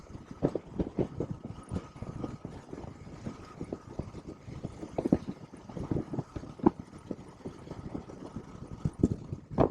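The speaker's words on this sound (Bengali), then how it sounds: "বেশি ব্রেক করা যাবে না, ইঞ্জিন ব্রেকিং এর উপরেই চালাচ্ছি" Motorbike engine running steadily while riding downhill on engine braking along a Himalayan road in Nepal, a continuous mid-level rumble with frequent irregular knocks and bumps throughout.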